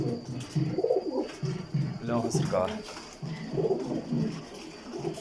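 Pigeons cooing at a pigeon sale, soft throaty coos heard close by under the continuous talk of men nearby.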